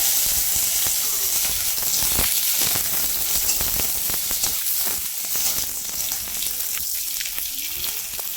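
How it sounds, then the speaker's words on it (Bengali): Lentil dumplings (bori) fry in hot oil with a loud, close crackling sizzle and sharp pops that run steadily throughout, with no talking. "বড়িটা দিয়ে দিলাম"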